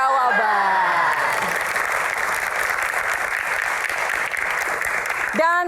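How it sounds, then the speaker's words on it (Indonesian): Sustained studio audience applause at a televised Q&A talk show, dense steady clapping filling the room throughout, with a host's voice briefly at the start and end. "Tepuk tangan teman-teman."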